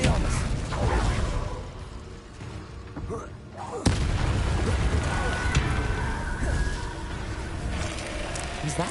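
Spells cast during combat in Hogwarts Legacy, heard as swooshing magic effects and rumbling impacts, with a sharp boom near the middle over continuous game ambience.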